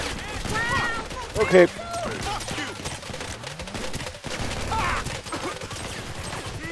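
Video game gunfire from a shoot-out heist mission, a dense rattle of rapid shots under loud excited talking and game noise, with one brief louder burst.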